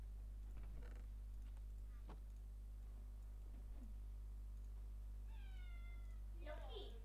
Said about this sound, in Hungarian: Szervusz kis cicám.